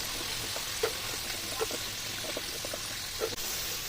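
Chicken pieces deep-frying in hot oil for a crispy restaurant-style starter, a steady soft sizzle with scattered pops and crackles and a few brief stirring clinks.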